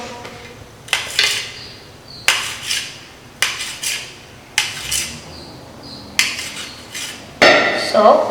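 A knife chops vegetables on a board, about seven sharp, distinct knocks at an irregular pace of roughly one per second, close and fairly loud, each followed by a brief ring and light handling noise.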